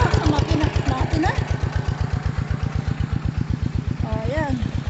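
An engine-driven water pump at a rural farm picnic runs with a close, rapid, even chugging beat, while voices talk over it throughout.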